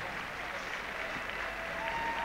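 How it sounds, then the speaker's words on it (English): Arena crowd at the 1998 Nagano Olympics applauding figure skaters after a free skate, a steady even wash of clapping from many hands at a distance. "the crowd being very, very generous with their applause"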